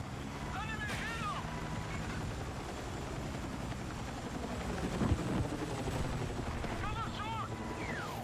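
An enemy helicopter in a military shooter video game gives a steady rotor and engine drone under wind. Brief voices call out and a shout rises midway, all layered over the continuous engine noise.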